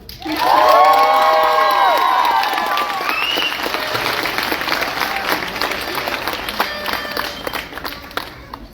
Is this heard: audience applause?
yes